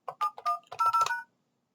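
A phone keypad sends a quick run of about six dialing tones, short and evenly paced, clear and close, ending abruptly.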